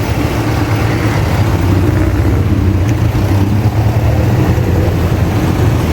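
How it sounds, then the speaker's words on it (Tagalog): Heavy road traffic, a steady low drone of car engines idling and rumbling close by, loud and continuous with no clear breaks. "Sobrang traffic guys."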